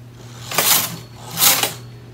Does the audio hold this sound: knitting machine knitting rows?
yes